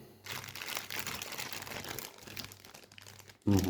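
Crisp crinkling and rustling of a thin plastic bag from a 1:72 Harrier GR.3 model kit being handled close by, continuous for a few seconds, ending with a brief louder clunk.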